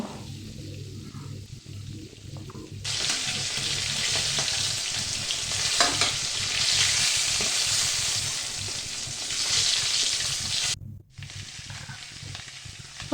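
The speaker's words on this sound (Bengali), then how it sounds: "কড়াইতে তেল গরম করে ভালো করে মাছের মাথাগুলো সব ভেজে নেব" Fish heads frying in hot oil in a wok, heard as a loud, steady, crackling sizzle that starts abruptly and carries on for several seconds with occasional stirring, then stops briefly and resumes.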